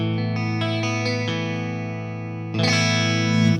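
Electric guitar played dry with the middle pickup setting engaging all three pickups. Several sustained, clean notes ring out one after another, then a louder strummed chord enters near the end. It is close and alone, with no talk.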